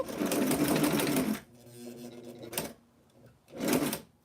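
Sewing machine stitching the seam of a 1990s vintage gown with a sweetheart neckline facing: a loud steady whirring run that stops, then two shorter bursts of stitching follow, with quiet pauses between.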